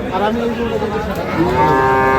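A cow at a cattle market in Gazipur, Bangladesh moos nearby in a long, drawn-out low call, with faint background murmur.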